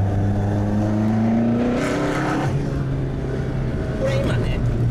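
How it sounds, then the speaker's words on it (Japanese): Toyota 86 in third gear accelerating from about 40 to 50 km/h, the engine note rising steadily and loud from inside the cabin, with someone talking over it throughout. "こう40キロから50キロぐらいの加速なんですけど、3速でバーって踏んでって"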